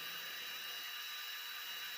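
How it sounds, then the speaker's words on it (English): A power drill with a small bit grinds mineral deposits out of a portable humidifier pipe, giving a steady, fairly quiet whirring hiss for about two seconds with no talk. "Using gloves, a power drill, and starting with a small bit, begin grinding out the mineral deposits."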